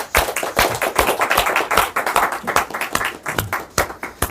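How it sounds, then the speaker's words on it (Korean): An audience at a special lecture by an emeritus professors' association welcomes a guest with brief, lively applause, a cluster of close, uneven claps from a modest crowd. "우리가 사모님을 환영하는 의미에서 박수를 한번 부탁드리겠습니다"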